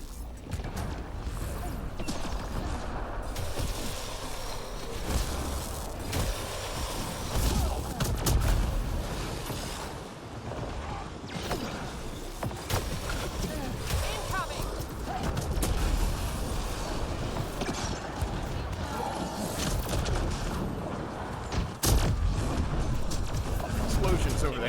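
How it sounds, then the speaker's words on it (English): Busy, dense battle noise from Mass Effect Andromeda multiplayer, with scattered booms and bursts of gunfire, continuous throughout, with voices talking over it. "Explosions over there."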